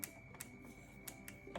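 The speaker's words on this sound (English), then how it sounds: "You hear it clicking, but it's not changing anything." The selector switch on an LG washer dryer gives a few faint, sharp clicks, four in quick irregular succession over a low steady hum, close up and quiet.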